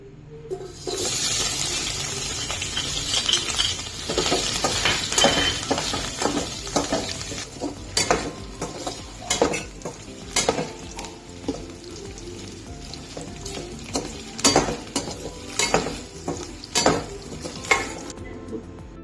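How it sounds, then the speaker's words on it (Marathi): Paneer sizzles in hot oil with a steady hiss, scattered crackles and spatters popping through it, and no voices. "आता आपण पनीर तळून घेऊ, म्हणजे खाताना कच्चं लागत नाही"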